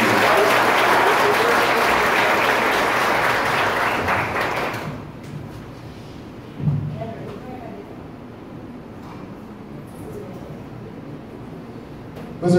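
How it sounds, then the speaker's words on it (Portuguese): A church congregation applauds loudly and densely for about five seconds, then the clapping dies away to a quiet room with scattered thumps and faint murmuring. "aplauda o Senhor novamente"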